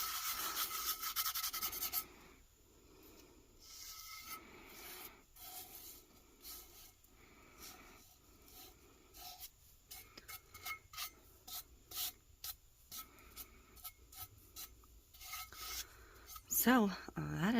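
Gloved hands rub a glitter tumbler with a soft, close, rasping friction in repeated short strokes. The rubbing is quiet, with a louder burst at the start.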